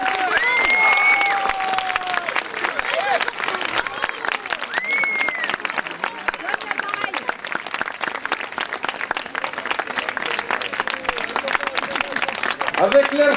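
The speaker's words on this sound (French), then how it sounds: "On peut les applaudir très très fort encore" Audience applause after an Oriental-themed performance by a troupe at a medieval festival in Nemours, with sustained clapping and scattered cheers running throughout, mixed with voices and a few whistles.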